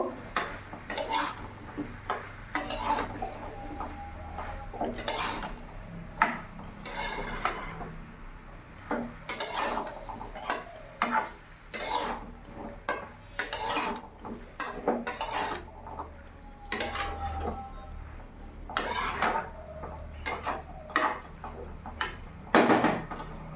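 Mushrooms and peas are mixed into masala in a pan, with a spatula knocking and scraping against the pan in irregular bursts, close and moderately loud with pauses between strokes.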